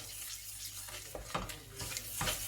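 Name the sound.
stirring the yellow taro sauce until it foams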